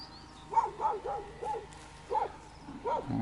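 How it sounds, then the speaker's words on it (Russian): A puppy yaps several times in short, high barks with uneven gaps, fairly close, against a quiet outdoor background near a river. "Чайка там у Айды, щенок."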